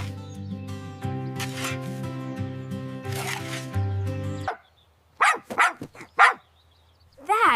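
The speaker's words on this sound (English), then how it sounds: "That is a happy dog." After a stretch of music ends, a dog in a garden gives a series of short, sharp barks: four in quick succession, then a pause and another burst, close and fairly loud.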